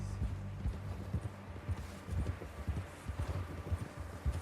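Horse hooves clip-clopping in the video game Red Dead Redemption 2, a quick, even rhythm of low muffled thuds at a steady gallop, moderately close, with faint wind in the background.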